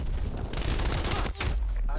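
Dense automatic gunfire from a weapon in Call of Duty: Black Ops Cold War, a loud continuous burst of rapid shots with a brief gap near the end before the firing resumes.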